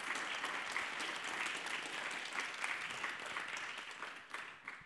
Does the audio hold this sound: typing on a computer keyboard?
no